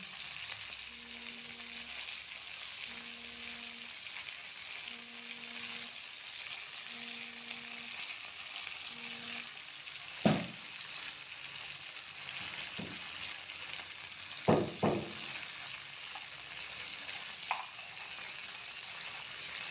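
Spice paste fries with a splash of water and turmeric in a pan, giving a soft, even sizzle that is fairly faint, with a few sharp stirring clicks later on.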